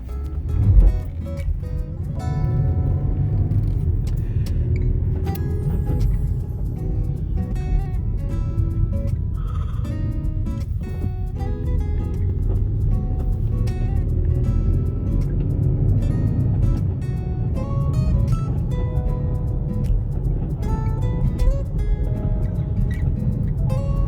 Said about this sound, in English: Excuse the squeaking and creaking of my car if you can hear it.